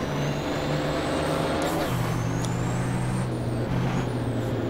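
Racing trucks roar in the Formula Truck video game at the Velopark circuit, a steady loud engine drone with shifting pitch and hissing air-brake-like bursts, no talk over it.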